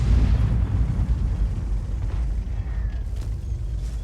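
A tank cannon shot from the 60TP Lewandowskiego tank in World of Tanks, a heavy booming blast with a deep rumbling low-end tail that slowly fades, loud and alone with no talk.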